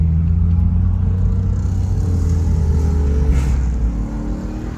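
A Dodge SRT car fitted with JLT Performance parts holds a deep, loud, steady engine drone with a strong low rumble, easing off slightly near the end.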